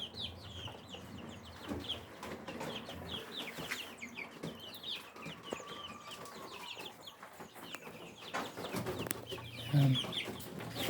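Rhode Island Red chicks in a DIY brooding cage on a backyard farm, peeping and clucking continuously at close range, with soft rustling and faint wing flutters mixed in.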